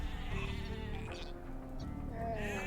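Several sheep bleat in quick succession over a low steady background, nearby and clear, in the video game Age of Empires II: Definitive Edition.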